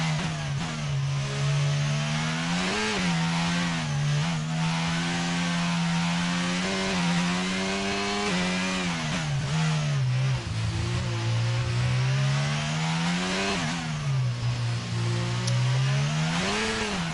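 A racing car's engine revs hard and continuously under heavy throttle, its pitch climbing and dipping through repeated surges, loud and close, with no voices.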